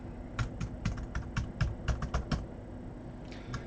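Rapid keystrokes on a computer keyboard tap out a password in a quick, uneven burst of a dozen or so close clicks, followed by a short pause and a couple of final taps.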